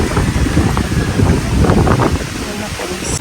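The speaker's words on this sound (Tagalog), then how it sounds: "Lakas ng hangin." Strong wind buffets the microphone at a high outdoor viewpoint above a road near swimming pools, a constant low roaring rumble with gusty swells that fills the whole stretch.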